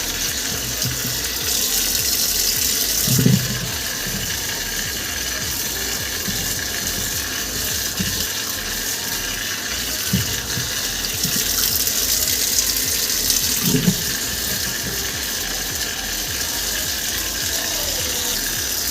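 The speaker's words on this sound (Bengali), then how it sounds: "চলো তাহলে আমি জল পাল্টিয়ে এটা ধুয়ে নিই" Tap water runs steadily into a pot as thin potato slices for crisps are washed, making a continuous close gush for the whole stretch, with a few brief splashes and knocks as the slices are stirred and no talking.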